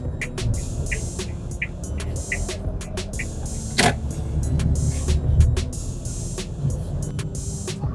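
A car drives along a rural road past paddy fields, steady low engine and road rumble with faint hum, a sharp knock or bump midway, and a string of light clicks throughout; no voices.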